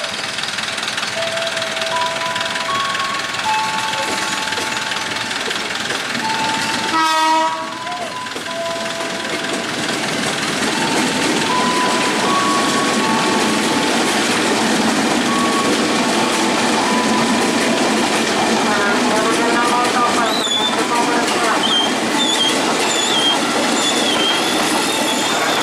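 KRL commuter train departing past the Tigaraksa station level crossing in the afternoon, a loud continuous rumble of wheels on rail with rising tonal hums and squeals, a sudden brief jolt partway through, steady and close throughout.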